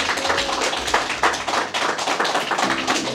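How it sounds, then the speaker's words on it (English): A small audience at a PTSD therapy session claps for a participant, giving a close, busy burst of applause with uneven surges that runs the whole time. "Give her a big round of applause."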